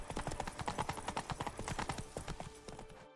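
Horse hooves clip-clopping in The Witcher 3: Blood and Wine, a steady rapid trotting rhythm that stays close and clear, easing off slightly toward the end, with no talk over it.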